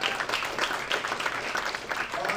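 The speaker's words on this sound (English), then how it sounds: "Round of applause for code words." Audience applause at a tech demo night in San Francisco, a moderately faint, patchy patter of hands clapping with a few sharper individual claps, mingled with light murmur from the crowd.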